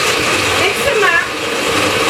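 A blender whirs steadily while mixing a green salsa with cilantro, a continuous buzzing motor drone that stays loud and even throughout, with no clear speech over it.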